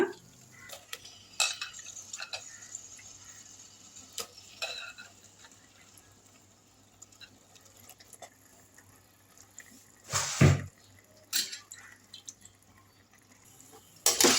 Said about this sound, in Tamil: நல்லா கிண்டி விட்டுடலாம்